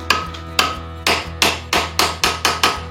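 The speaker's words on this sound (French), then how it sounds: "Je suis obligé de finir au marteau." A hammer strikes a flared copper pipe collar in eight sharp metallic blows with a fairly steady rhythm, each ringing briefly, close and loud with no talk.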